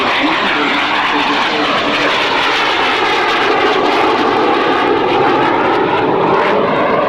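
Jet Provost aircraft with an early Viper engine flying past at the 1995 Fairford airshow, a loud sustained roar with a sweeping whine as it passes, with a commentator talking over it.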